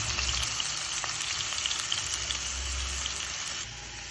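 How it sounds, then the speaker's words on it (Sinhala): Oil fries in a pan during preparation of a Sri Lankan young jackfruit curry, a steady close sizzle and crackle that holds evenly throughout with no voices. "මේ විදිහට සුත්ත වෙලාවක් තෙල බැදෙන්න දෙන්න."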